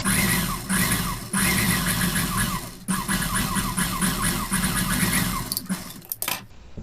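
A sewing machine stitches a blouse seam in a fast, steady mechanical whir with a rhythmic needle chatter, close and loud, broken by brief pauses and ending in a few short bursts.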